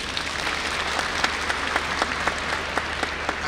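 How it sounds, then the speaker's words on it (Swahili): An audience at an environment summit in Dodoma applauds the institutions with steady, even clapping from many hands, with sharper individual claps rising above the general patter. "naomba tuwapigie makofi"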